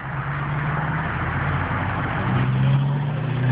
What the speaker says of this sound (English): this morning, SRT8 Jeep Grand Cherokee